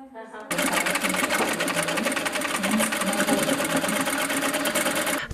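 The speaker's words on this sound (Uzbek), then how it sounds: "Bu oilada tikuv mashinasining ovozi ertayu kech eshitiladi." Sewing machine motor running steadily and loudly in a home workshop where garments are made, a dense continuous whir starting after a brief quiet moment and persisting throughout, with faint speech beneath.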